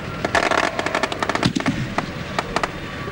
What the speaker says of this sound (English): followed by a big fireworks display